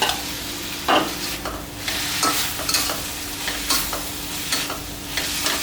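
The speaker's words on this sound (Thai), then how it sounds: "แล้วก็พริกกับต้นหอม ครับ ก็ผัดให้เข้ากัน" Fermented pork (nham) and egg are stir-fried in a hot pan, giving a steady sizzle broken by repeated scraping strokes of a utensil at a loose rhythm, close and with no talk.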